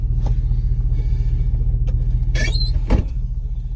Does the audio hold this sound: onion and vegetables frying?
no